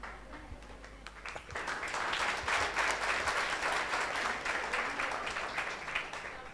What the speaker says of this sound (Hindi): तालियां अभी छोटी बज रही हैं